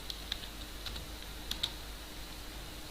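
Faint, sparse key clicks from typing on a computer keyboard, a handful of light taps spread irregularly over a quiet room background.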